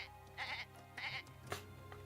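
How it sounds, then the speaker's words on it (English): Goat bleats from the Twisted Wonderland video game, two drawn-out nasal cries followed by a shorter one, clear and close over a faint musical backdrop. "Excited goat noises."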